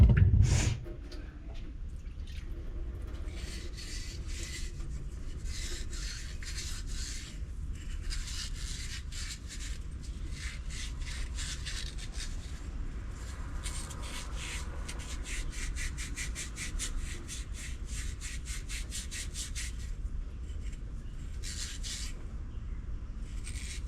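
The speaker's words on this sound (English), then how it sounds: "let's take it over here to the parts washer and get some of that Scotch-Brite pad on it" A generator part is scrubbed with a Scotch-Brite pad at a parts washer, heard as long stretches of close, rhythmic rasping rubs, with a brief louder knock right at the start and no talking.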